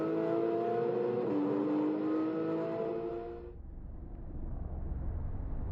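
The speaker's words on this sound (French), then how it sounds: "le son de ce moteur atmosphérique de la GT3 est quand même assez magique" Naturally aspirated GT3 race car engine revving loudly and steadily for about three and a half seconds, its rising harmonic note cutting off abruptly into a lower rumble of passing traffic or track noise.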